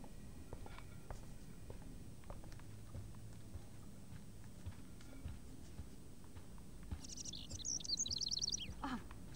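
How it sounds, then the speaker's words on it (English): Small bird chirping indoors inside a house in the Life is Strange video game, with a rapid burst of high tweets near the end over a steady low background hum. "can you help me get this bird out of here?"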